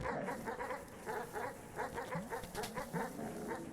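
Several dogs in the video game Animal Well bark and yip in quick repeated bursts, fairly faint and low in the mix, forming a busy, irregular rhythm.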